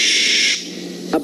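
A barn owl gives a harsh, raspy hissing screech lasting about half a second, followed by a quieter breathy tail and a brief burst at the end; loud and close.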